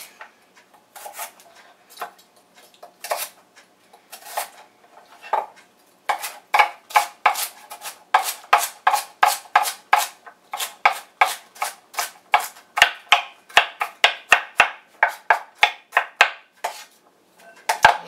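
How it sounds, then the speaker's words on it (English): A knife chops celery on a board, starting with scattered cuts and then settling into a fast, steady run of crisp, close knocks, loud and clear with no talking. "you want to chop up some celery"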